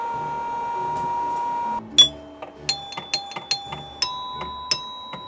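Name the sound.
virtual pinball machine bell ringing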